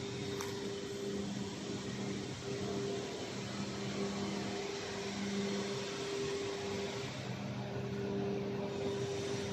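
Inside a fiber cement board production line, the dryer's internal fans run with a constant broadband whoosh and a faint steady tonal hum, with no talk.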